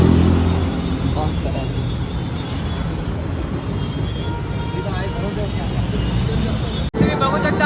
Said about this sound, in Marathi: टेम्पो आपला फुल आरामात चालतो टेम्पो